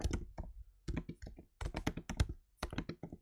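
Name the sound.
typing on a MacBook keyboard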